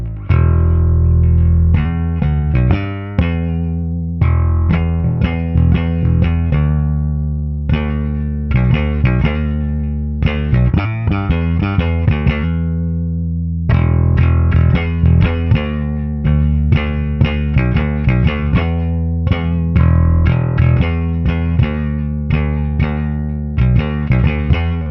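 Electric guitar played through pickups and an effects chain, picked near the neck for a sharp attack, loud and close with distorted, chorus-tinged tone, rapid rhythmic phrases and short pauses, no voices over it.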